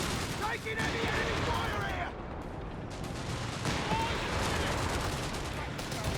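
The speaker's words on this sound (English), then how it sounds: "Taking enemy fire" Dense, continuous gunfire and explosions fill a Company of Heroes 3 battle, with overlapping rattling bursts and no break, and speech mixed in underneath.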